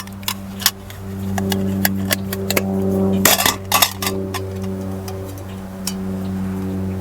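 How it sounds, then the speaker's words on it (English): An Ozark Trail camping pots and pans set bought from Walmart, handled in a moto camping setup: scattered metallic clinks, clanks and rattles, with a denser burst of clattering near the middle, over a constant engine-like hum. "this is my pots and pan set. Also Ozark Trails, bought from Walmart a long time ago."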